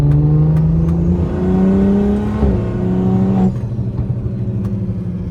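A BMW 340i with a big turbo kit pulls at wide-open throttle, its engine note climbing loudly through the revs, then a sudden drop as the throttle lifts, leaving a lower idle-like drone; close and alone, no talking.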